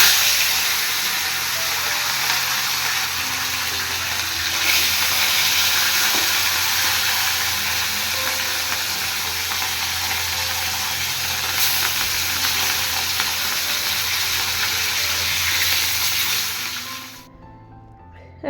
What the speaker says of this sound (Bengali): মাছগুলো ঝটাপট ভেজে নিই